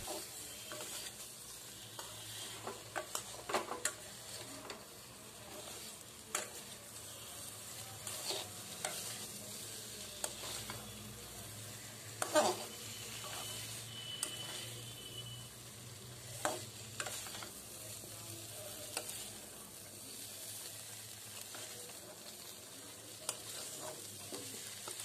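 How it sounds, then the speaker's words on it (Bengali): Spice masala with asafoetida and potatoes being sautéed in oil, a soft low sizzle under repeated scraping and tapping of a spatula in the pan, unhurried and fairly quiet, no voices. "এরপর ভালোভাবে কষিয়ে যেতে হবে যতক্ষণ না পর্যন্ত একটা সুন্দর গন্ধ মশলা থেকে বেরিয়ে আসে ও মশলার কালার চেঞ্জ হয়ে যায়"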